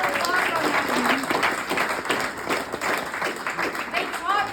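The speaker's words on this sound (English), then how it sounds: "round of applause on that" Audience clapping for a couple marking 58 years together, a moderate burst of applause with a voice speaking over it at times.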